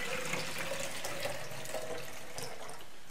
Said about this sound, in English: So you just add water here into the base.